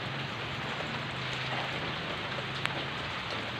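Steady morning rain falls in a continuous close hiss of drops on surfaces, with a low hum underneath and no voices.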